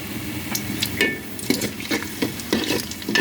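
Bay leaf, cinnamon, onion and cardamom fry in a pan with a soft steady sizzle, broken by quick scraping stirs at irregular intervals, close and moderately quiet.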